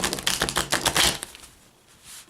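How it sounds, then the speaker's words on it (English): Tarot cards are shuffled in quick, close riffling bursts of crisp flutters for about a second, then the sound fades to near quiet with a soft final rustle. "I'm going to shuffle up the cards a few times."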